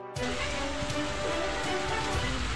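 Heavy evening rain pours down at Saptashrungi fort near Vani and its surroundings. The downpour is a dense, continuous hiss that starts abruptly and holds steady to the end, with no voices.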